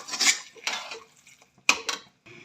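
Dal mash with a fresh tadka being stirred in a pot: a few bright metallic clinks and scrapes of a spoon against the pot in short bursts, close and fairly loud, with quiet gaps between them.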